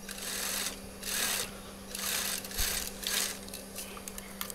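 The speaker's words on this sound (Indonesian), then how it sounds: "Kemudian kita jahit di baliknya saja yang sudah ada jahitan tadi" A sewing machine stitching a seam on a kurta, a soft, faint mechanical whir that rises and falls in short repeated runs over a steady low hum.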